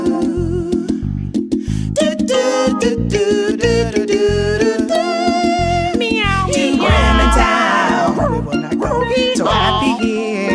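A singing voice imitates a cat meowing in a children's musical story, repeated melodic meows sung loudly over bright accompanying music.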